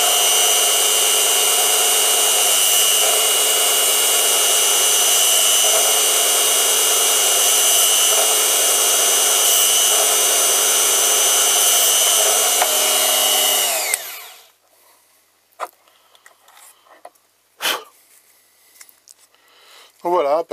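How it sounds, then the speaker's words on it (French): A small drill bores through a printed circuit board with a loud, steady high-pitched whine that holds for about fourteen seconds, then winds down and stops, leaving quiet handling clicks and taps. "Donc voilà, perçage très propre"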